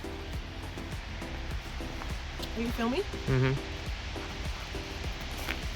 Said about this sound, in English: So that's the sound of the falls.